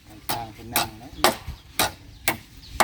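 Nails being hammered into wood during building work on a bathroom, with five sharp separate blows at an uneven pace, fairly close and loud, over a low background murmur.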